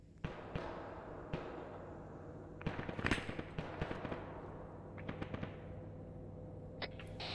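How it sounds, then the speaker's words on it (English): Distant gunfire from the Arma 3 video game comes as scattered sharp cracks and short clusters of shots, faint and echoing, over a low background hum. "Red team is providing suppressive fire from the hillside."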